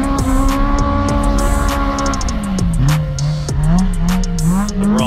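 Polaris RZR Pro R side-by-side revving hard, a loud, close engine note rising and falling through its range with a sharp, buzzing exhaust tone that holds steady, dips, then climbs again.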